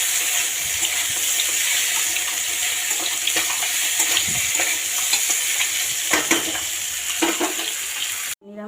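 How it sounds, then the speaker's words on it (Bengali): Egg frying in a pan alongside a vegetarian chorchori of taro, potato, eggplant, spiny gourd and bitter gourd, giving a steady close sizzle with scattered stirring clicks and utensil scrapes throughout, no talking. "এদিকে আলুটাও ভালো হয়ে গেছে, ডিমটা ভাজছি।"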